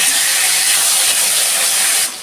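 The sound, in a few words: dried chilli, bay leaf, cumin and tomato sizzling in tempering oil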